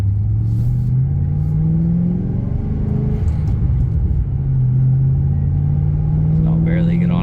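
A supercharged 2007 Ford Mustang Shelby GT500 with a Bassani exhaust pulls gently from inside, its engine droning low and steady with a rising tone, and a voice talks over it throughout.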